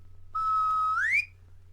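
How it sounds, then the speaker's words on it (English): Magic whistle blown once in a single long, steady tone that slides upward at the end, clear and close against a quiet background. "He blew the whistle,"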